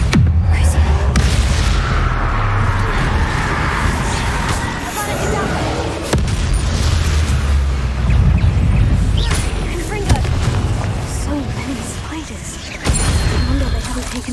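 A Bombarda blast spell in Hogwarts Legacy, a broad rumbling burst of explosive noise with several loud thumps over continuous game background, mixed with talking.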